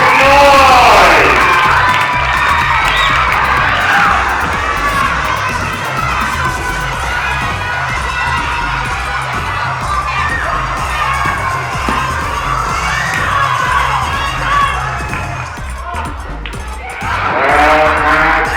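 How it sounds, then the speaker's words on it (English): A loud crowd cheers and shouts for a player at a match, with excited children's voices, whoops and yells sustained throughout, dipping slightly midway and swelling again near the end. "Let's cheer him on. Here's some noise."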